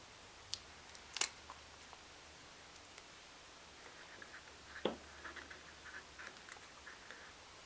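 Scissors trim shimmer trim on a craft frame with a few faint, sharp snips close by, spaced apart against a quiet background.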